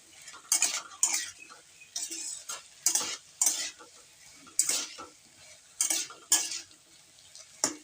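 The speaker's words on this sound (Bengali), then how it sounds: "ভালো করে কষে নিতে হবে" Spice masala for a Bengali egg curry being stir-fried in a pan: about a dozen rhythmic spatula scrapes against the pan over a low sizzle, close and evenly spaced, with no voices.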